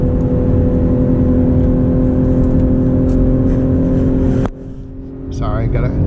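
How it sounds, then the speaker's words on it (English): A BMW M340i xDrive with an eight-speed torque converter automatic drones steadily from inside the cabin, then the engine note breaks off abruptly as it downshifts to third, and the revs climb again on a steep turn. "So we're going to downshift to 3rd."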